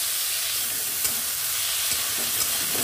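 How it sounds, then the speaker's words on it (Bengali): Potato and pointed gourd peels frying with shrimp and a dried chilli, a dense, even, close hissing sizzle with a few faint stirring clicks. "এবার এটাকে সুন্দর করে আমি ভেজে নেব।"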